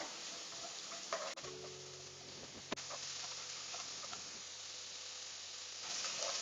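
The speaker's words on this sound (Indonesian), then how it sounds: "Ini kita tumis sebentar. Tidak usah sampai matang benar." Pumpkin being briefly stir-fried in a pan gives a faint, steady sizzle with a few light clicks and scrapes of a utensil, heard alone at low level.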